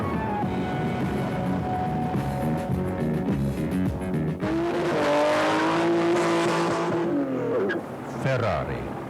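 A tuned Koenig Specials sports car accelerates hard, its engine note climbing through the gears with rising whines and shifts, loud and close, partly under a narrator's voice.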